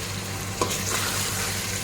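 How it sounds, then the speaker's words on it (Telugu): Prawns and fish fry in a pan for Kuwaiti machboos with a steady, close sizzle and a stirring scrape near the start, no voices. "ఇలాగా ఫ్రై చేసుకుంటున్నాము"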